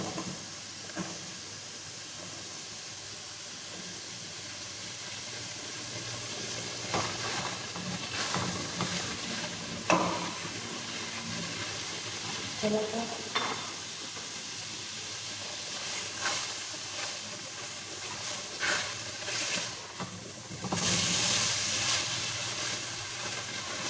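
Spicy keema aloo matar with mince, potato and peas sizzles in a pan with a steady hiss. A few louder scrapes and knocks from stirring rise above the frying now and then, close by and with no talking.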